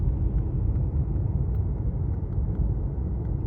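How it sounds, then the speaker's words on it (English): A Tesla on Full Self-Driving rolls around a looping road in Canberra, a steady low cabin rumble of tyres and road noise, even and continuous, with no talk. "Like the car is just going right around loop the loop."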